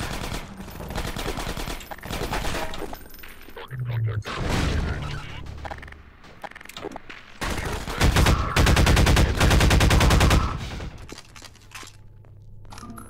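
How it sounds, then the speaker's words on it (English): Very loud weapon fire in Half-Life 2 Episode One, with bursts of rapid automatic shots and single blasts running throughout, some crashing and breaking noises mixed in, loud and dense over game sound. "Why are the guns sound so loud compared to everything else?"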